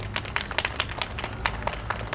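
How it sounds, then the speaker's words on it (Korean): An audience at a memorial gathering for the Itaewon crowd disaster claps continuously, giving dense, steady applause heard at a moderate distance with no talk over it. "큰 박수 부탁드리겠습니다."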